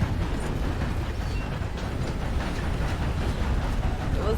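A train in the video game Red Dead Redemption 2 rolls past on a railway by a bridge, a loud, steady rumble with low clatter that holds throughout.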